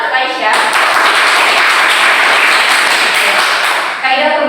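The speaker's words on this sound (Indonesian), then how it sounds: "Beri tepuk tangan untuk Aisyah." A classroom breaks into loud, dense applause for a student named Aisyah, many hands clapping steadily for several seconds between a teacher's brief remarks at the start and end.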